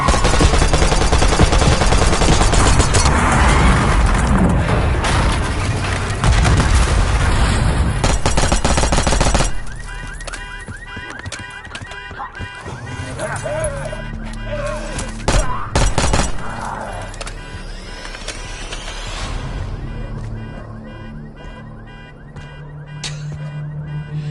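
Call of Duty Modern Warfare 2 gameplay with loud, dense rapid gunfire and shattering impacts, easing into a busier mix of sporadic bursts, alarms and game effects.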